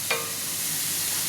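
Thin homemade burger patties sizzle on a piping hot griddle, a steady bright hiss of frying with a brief crackle at the start and no voices.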